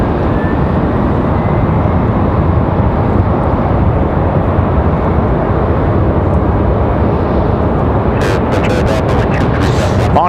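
A Frontier airliner from Detroit arrives at Raleigh-Durham airport, its loud, steady jet roar filling the scene for several seconds before a burst of wind or handling noise near the end.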